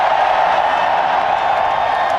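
A large crowd at a cricket stadium cheering, a dense and continuous roar of many voices that stays loud and steady throughout.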